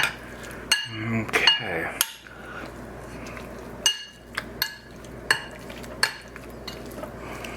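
Sliced beef seasoned with white pepper and a tablespoon of starch is mixed in a bowl, with irregular clinks and scrapes of a utensil against the dish and a brief spoken word near the start.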